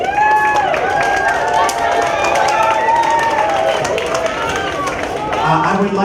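A crowd at a school spring concert applauds its performers with sustained clapping, mixed with whoops and cheering voices that rise above the steady patter.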